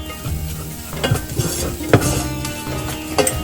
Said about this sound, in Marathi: आता आपल्याला हे सगळे मसाले मिक्स करून घ्यायचे आहेत